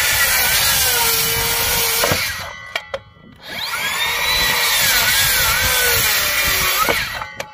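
A saw plunges straight down at 90 degrees into a 2x12 board, whining loudly through two long cuts. The motor pauses briefly between them, with a few clunks of handling.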